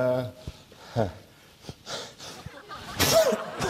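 A single sneeze bursts out near the end, loud and close, after voiced breathy sounds and brief talk earlier.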